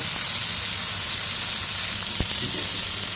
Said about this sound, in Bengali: এভাবে করে আমি ভেজে নেব ভালো করে এক পিঠ হয়ে গিয়েছে এখন অন্য পিঠ দিয়ে দিয়েছে